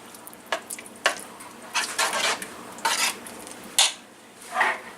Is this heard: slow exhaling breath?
no